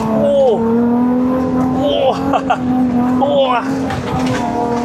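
A Suzuki Grand Escudo XL7 engine accelerates, holding a loud, steady drone with rising and falling revs and brief squeals, while a person talks over it.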